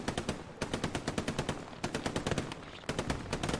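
Machine gun fire in the video game Hell Let Loose during an 18-versus-18 tournament match: three sustained, rapid bursts of close, loud automatic shots separated by short pauses, with no talking.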